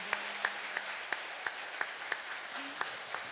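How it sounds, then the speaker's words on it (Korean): Applause from a church congregation during Mass, quick separate claps spaced about a third of a second apart across the clip, fairly soft and roomy, with no talking over it. "우리 격려의 박수 주세요."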